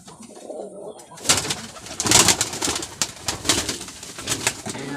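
Pigeons in a small backyard loft give repeated soft cooing calls, close and fairly loud, with rustling and a few faint chirps between the coos.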